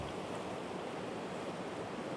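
Deep, fast-moving water rushes steadily and loudly, a broad unbroken roar of flow with no voices over it.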